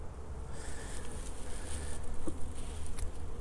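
Honeybees buzzing around an open hive during hive expansion, a steady dense drone with individual bees passing close to the microphone, no speech.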